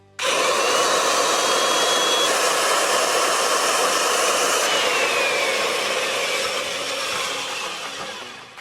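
A bandsaw cuts a brand-new radiator part for an SN95 Mustang cooling system, producing a loud steady whirring whine that starts abruptly and holds for several seconds before tapering slightly at the end.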